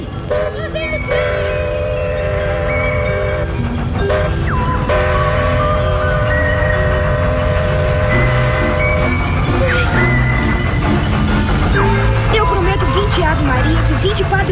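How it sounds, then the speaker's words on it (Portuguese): A train approaches with a continuous rolling rumble and long, steady horn blasts, loud and close, with voices mixed in over the noise. "Lá vem o trem."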